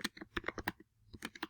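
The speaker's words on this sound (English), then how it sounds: "I think we're ready to just start typing" Rapid typing on a computer keyboard, a quick run of crisp, close key clicks that stops briefly and then resumes, quiet and alone with no talking.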